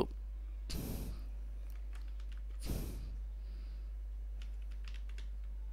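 Someone types on a computer keyboard while entering PHP code. Faint, sparse key clicks sit under a low hum, with two louder breathy bursts in between.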